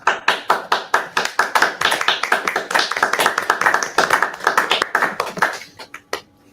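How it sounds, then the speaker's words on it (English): A roomful of people clap at the close of a conservation and governance symposium session, fairly close and moderately loud, the claps rapid and uneven at first before thinning to a few scattered last claps. "everyone clapping in the room"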